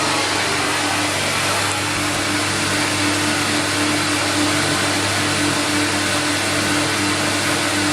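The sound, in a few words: CamVac dust extractor motor and vacuum pump running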